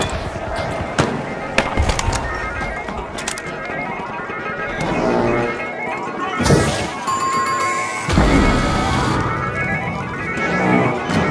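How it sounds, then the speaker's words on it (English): Chaotic game action from The Finals as a team opens a vault, with sharp crashes, thuds and a hissing burst from a thrown smoke grenade, loud and close over continuous clattering effects. "Smoke grenade out!"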